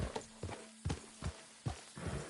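Hooves clip-clop at a slow walking pace in a video game, five or six distinct thuds spaced evenly and heard close, with no talk over them.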